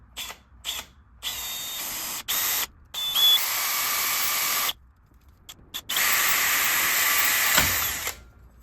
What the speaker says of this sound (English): So I'm starting with a small bit first to drill the pilot hole.